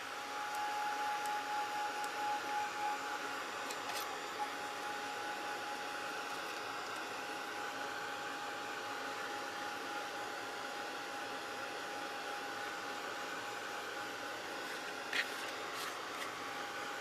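A hair dryer blows steadily and close for the whole stretch, a constant whooshing roar drying a steampunk craft tag, with a few faint clicks and no talking.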